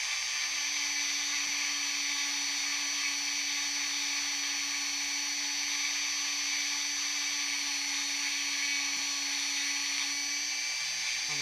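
A power tool sands rough, weathered edges off a piece of wood, holding a steady high-pitched whine at an even pitch for the whole stretch with only a couple of faint ticks, near and continuous with no talking.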